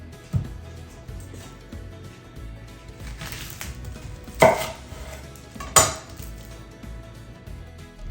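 A knife slicing red onion thinly for flatbreads: a few crisp cutting thuds against a board, two of them louder, spaced apart over quiet kitchen background, close and without talk.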